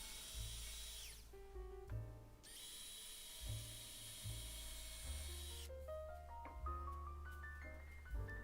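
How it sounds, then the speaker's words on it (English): Power drill boring two pilot holes into wood to join two pieces for a homemade fishing line reel spooler; the motor whines in sustained bursts, starting and stopping several times, close and loud, with no talking. "I'm just going to drill down two pilot holes here."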